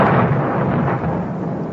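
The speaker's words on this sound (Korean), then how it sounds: "번쩍하는 번개와 함께 요란한 천둥 소리가 천지를 진동했다" A radio-drama thunder sound effect booms as a loud, close rumble that starts sharply and rolls on with a slowly fading roar.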